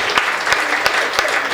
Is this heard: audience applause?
yes